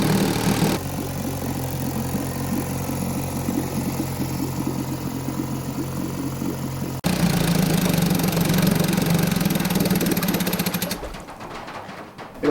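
A 1952 Johnson outboard engine idles with a steady, rapid chugging putter, close and loud, continuing evenly before cutting out near the end.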